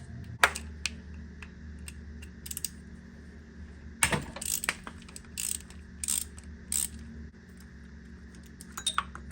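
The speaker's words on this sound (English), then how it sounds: "The last bolt you're gonna want to take off is this guy right here" Sharp metallic ratchet clicks in short bursts at close range, with scattered tool clinks, as a bolt is worked loose while pulling the engine from a Lexus LS430 in a quiet garage.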